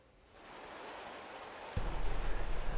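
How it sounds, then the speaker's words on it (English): Steady rain pours down during tornado storm coverage, a broad hiss that builds gradually, then jumps louder and heavier partway through, with a low rumbling roar underneath and no talking. "for the first time, we're starting to see some consistent rain now, James."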